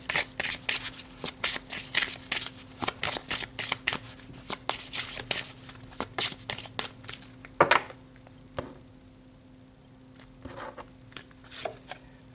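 A deck of tarot cards being shuffled in a steady run of crisp riffles and flicks, loud and close, thinning out into a few scattered card taps toward the end, with no talking.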